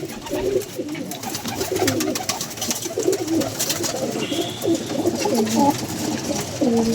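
A pigeon coos repeatedly at close range, its low, rolling calls recurring through the whole stretch over steady background noise.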